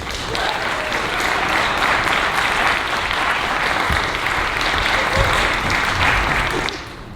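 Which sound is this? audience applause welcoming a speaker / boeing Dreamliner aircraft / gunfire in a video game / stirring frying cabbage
audience applause welcoming a speaker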